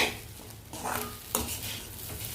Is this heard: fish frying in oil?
yes